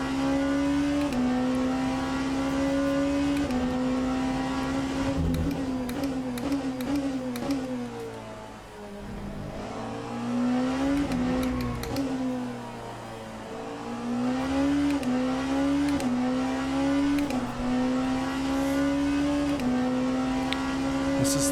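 A hypercar engine roars steadily through a lap in the racing game Le Mans Ultimate, rising and falling in pitch through repeated upshifts and downshifts, with a brief lift around a slow corner midway before accelerating hard again.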